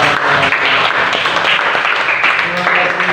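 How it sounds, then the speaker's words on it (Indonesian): Classroom applause during a teaching practice session, a steady wash of clapping lasting a few seconds, fairly loud, with voices mixed in underneath. "Tepuk tangan buat kita semuanya."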